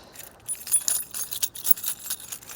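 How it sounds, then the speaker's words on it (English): A bunch of car keys jingles in a pocket, bright metallic clinking coming in irregular bursts at close range, with no voices. "The sound of too many car keys in one man's pocket"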